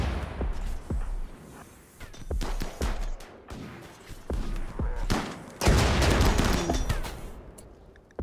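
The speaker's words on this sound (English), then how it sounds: "Just like all kinds of explosions and things happening." Explosions and rapid gunfire from a RimWorld battle crackle in repeated sharp bursts and volleys, with a heavier sustained blast sequence toward the end, fairly quiet overall and without talking.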